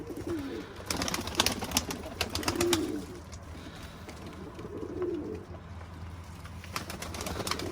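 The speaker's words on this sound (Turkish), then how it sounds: "Ya kuşlar banyo yapmaya ne kadar hevesliymiş bugün" Pigeons coo in low, repeated bursts while bathing, amid steady outdoor background noise, with occasional faint flutters and splashes.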